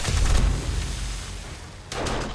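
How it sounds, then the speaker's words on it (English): Pipe bomb explosions in the survival game 7 Days to Die, with a booming blast at the start that rumbles and decays, then a second, quieter thump near the end. "Yeah, see, that was a really small explosion"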